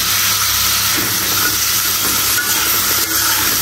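Jackfruit seeds and vegetable stalks fry in a spice paste in a home kitchen pan, giving a steady close sizzle and hiss with faint stirring scrapes throughout and no one talking.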